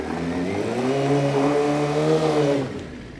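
Motorcycle doing a rolling burnout on loose, slippery ground: a loud, close engine held at high revs with a steady droning tone that rises slightly, then drops away near the end.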